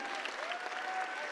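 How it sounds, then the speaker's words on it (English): Steady applause from an audience at a benefit auction livestream, a brief continuous patter of many hands clapping at moderate volume. "Why have you stopped clapping?"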